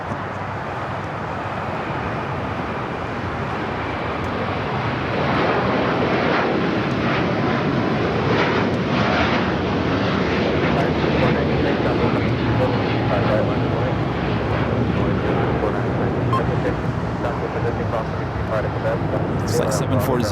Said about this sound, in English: Flight 740 heading back to Doha at A350-1000